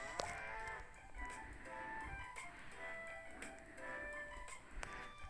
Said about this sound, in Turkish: Arkadaşlar bunlar inek.